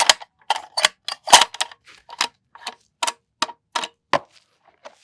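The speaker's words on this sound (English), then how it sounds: "Let me chamber one and eject it." A 7mm PRC cartridge is chambered and ejected in a rifle built on a Defiance Anti-X long action. About a dozen sharp, close metallic clicks and clacks of the bolt come in an irregular run with short gaps between them, with no talk.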